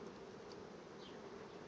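Honeybees humming inside a hive as a steady, dense, even drone, close and unbroken, with no talk.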